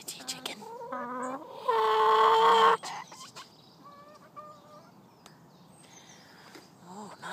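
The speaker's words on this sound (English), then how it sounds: "agility chicken." Backyard chicken clucking and squawking close by, several short calls with one louder sustained squawk in the middle, among other faint bird sounds.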